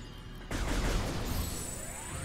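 An explosion in the video game Metroid Prime Remastered bursts in suddenly after a quiet moment, then rolls into a rumbling, crackling decay with a rising synthetic whine.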